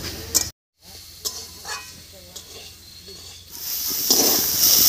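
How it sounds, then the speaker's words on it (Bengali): Leafy greens stirred in a pan as their water cooks off, with a steady sizzle and hiss under scraping stirs, a brief dropout, then louder frying toward the end. "এবারে নাড়িয়ে চাড়িয়ে এই জলটা শুকিয়ে নেব।"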